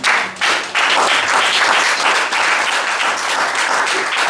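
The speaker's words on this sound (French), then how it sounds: "Est-ce qu'on peut acclamer pour le Seigneur?" A church congregation breaks into sustained, loud applause for the Lord, dense clapping filling the hall and holding steady after a brief dip at the start.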